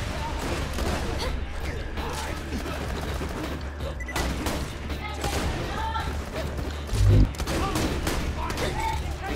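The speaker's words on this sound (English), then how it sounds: "I just missed both those shots." Gunfire in the video game Borderlands 2 crackles in scattered bursts over a dense, noisy battle mix, with one heavy thudding shot standing out near the end; no one speaks.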